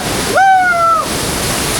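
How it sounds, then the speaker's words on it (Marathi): Kondeshwar waterfall at Kamshet rushes as a steady broadband roar, briefly overlaid near the start by a clear whistle-like tone lasting about half a second. "हाच तो कोंडेश्वर धबधबा"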